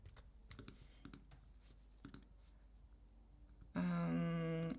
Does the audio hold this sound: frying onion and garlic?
no